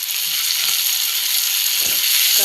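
Curry leaves hit hot oil with onions in a pan while egg podimas is being cooked, giving a loud continuous sizzle with a brief crackling burst near the end, with no talking.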